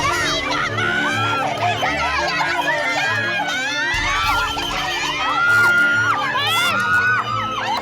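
Loud crowd at a district track and field meet, with shouting and cheering voices rising over steady chatter throughout, including a mother shouting to cheer her child on.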